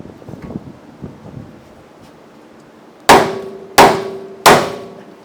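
Three sharp metallic clangs from a hammer striking a pickle fork to free a ball joint on a 1959 Dodge front end, evenly spaced and ringing briefly over faint outdoor background noise.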